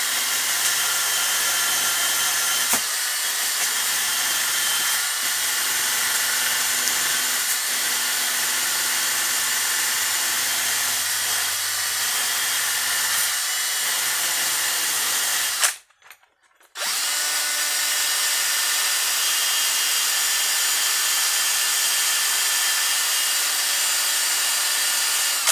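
An angle grinder works on a welded part for a Mazda RX-8, a steady loud whine with scraping texture running almost continuously, cutting out briefly near the end before resuming.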